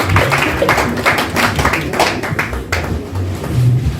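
Applause from a church congregation cheering a preacher at a Congolese funeral wake in Paris: dense, steady clapping from many hands with rhythmic surges, low musical tones faintly underneath, sustained for several seconds.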